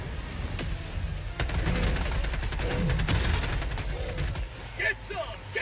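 Rapid gunfire rattles in the video game Helldivers 2, sustained bursts of automatic shots that run close and loud for several seconds and then cut off, with a player talking over the action.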